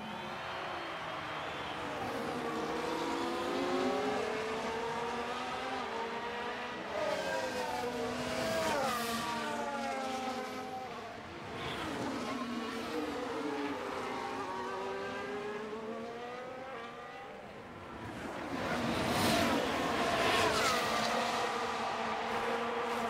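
Formula One race cars from a Brazil Grand Prix video game roar past on a victory lap, their engines whining and rising and falling in pitch as they pass, sustained and moderately loud throughout.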